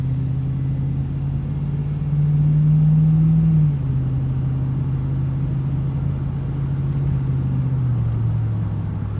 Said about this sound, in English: it has a nice deep throaty sound to it.